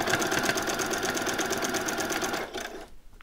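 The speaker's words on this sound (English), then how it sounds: "then I'm going to do a back stitch, and then I'm going to come on again" A sewing machine runs in a fast, steady rhythmic chatter while stitching a t-shirt seam, close and loud, then slows and stops near the end.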